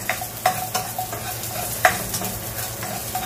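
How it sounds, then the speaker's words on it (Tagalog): Garlic and onion sautéing in oil for tinola, with a close sizzle broken by a few sharp scrapes and taps of a utensil stirring in the pan, no speech. "ngayon, mag-gisa na tayo ng ating bawang and sibuyas"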